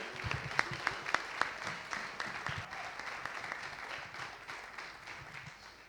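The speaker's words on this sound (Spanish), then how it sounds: "Super, un aplauso fuerte." Church audience at a conference breaks into loud applause, a scattered patter of many hands with a few sharper claps standing out, continuing steadily before tapering off.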